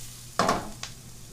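Meatballs for spaghetti are flipped in a hot pan, giving a short close burst of sizzle and scrape and then a smaller second flick of sound, over a quiet background hum.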